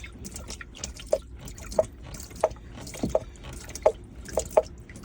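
Water trickles out of a squeezed coolant hose on a boat engine, falling as a steady run of distinct, fairly close drips roughly every half second over a faint liquid gurgle.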